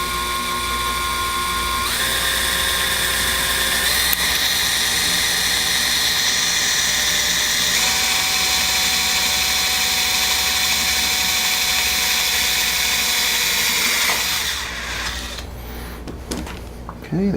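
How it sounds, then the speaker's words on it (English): A power drill bores holes for a Lionel O scale train display shelf, its steady, loud, high whine holding for over ten seconds before winding down, heard up close. "and you start drilling."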